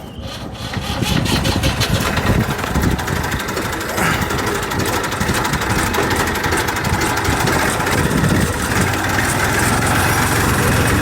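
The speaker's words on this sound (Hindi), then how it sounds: "अब ये इस ट्रैक्टर को चलाने की कोशिश कर रहे हैं" A made-in-England tractor's engine runs steadily and loud throughout, a continuous low rumbling drone with a rough mechanical clatter and no pauses.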